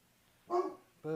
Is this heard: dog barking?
yes